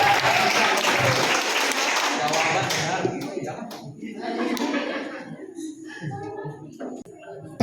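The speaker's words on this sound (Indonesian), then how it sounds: "Tepuk tangan untuk pediatrik." An audience at a nurse-midwife quiz competition breaks into dense applause that fades after a few seconds into scattered claps, chuckles and talk.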